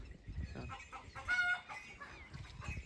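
Hens cluck softly and repeatedly nearby on a farm under cloudy skies, with a short, louder squawk partway through and a faint outdoor murmur underneath.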